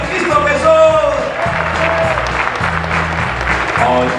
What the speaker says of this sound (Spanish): ¡Un aplauso más fuerte a Cristo Jesús!